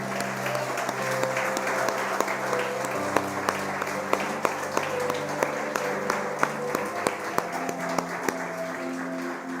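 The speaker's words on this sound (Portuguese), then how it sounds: "Você pode aplaudir ao Senhor, queridos?" A church congregation applauds for the Lord, with a steady wash of clapping and sharp individual claps over sustained keyboard-like music tones.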